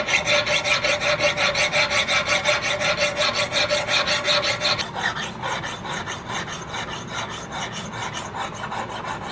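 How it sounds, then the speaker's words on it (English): A worn fine file smoothing the butt plate of a muzzleloader rifle: steady, rhythmic back-and-forth rasping strokes, close and fairly loud, getting slightly softer and duller partway through. "You'll be impressed, I think, at how good of a finish you can get with just a really fine worn out file."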